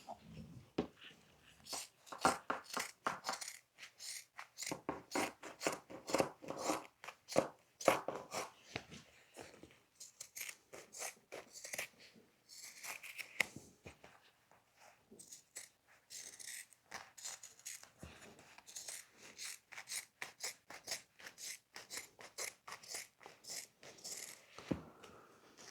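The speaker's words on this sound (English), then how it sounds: "we're cutting right next to that thread that we just sewed without actually cutting it" Scissors snip through motorcycle seat upholstery right beside freshly sewn thread, giving a long series of quick, close clicks and crunches in uneven bursts with brief pauses and no talk.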